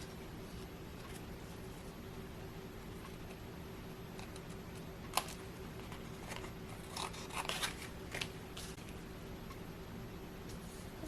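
Scissors trim paper index cards: a few quiet, scattered snips and crunchy cuts, clustered mostly in the second half over a faint steady hum, with no talking.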